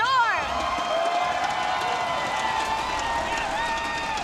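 An esports arena crowd at the 2017 HGC Finals cheers and whoops for Tempo Storm, a broad roar running steadily under an excited caster's voice for the whole stretch.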